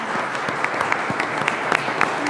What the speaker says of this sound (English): please to clap for our panelists